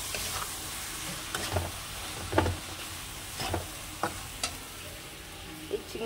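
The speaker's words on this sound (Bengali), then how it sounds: "এবার মিক্স করে দিই" Taro being stirred and mixed in a sizzling pan, with a spatula scraping and clacking in irregular strokes over a steady low fry, close and moderately quiet.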